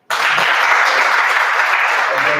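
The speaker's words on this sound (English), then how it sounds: "Let's clap for him." Applause for an elder guest at a youth gathering in Lira City bursts in suddenly and holds as a loud, dense, steady wall of clapping from a crowd.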